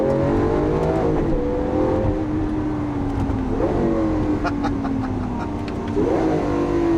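A car in sport mode downshifts and revs, the engine note climbing and falling in repeated surges. Loud, close and continuous, with no voices.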